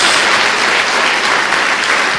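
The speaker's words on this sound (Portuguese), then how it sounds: "dê uma salva de palmas ao Senhor" A church congregation breaks into loud, dense applause at a Holy Spirit baptism service, a steady wash of clapping that holds evenly throughout with no pauses.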